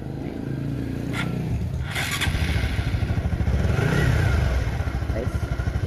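A Honda Supra X 125 FI motorcycle with a weak, often-drained battery is started after some clattering handling, then settles into a steady, rapid pulsing idle close by.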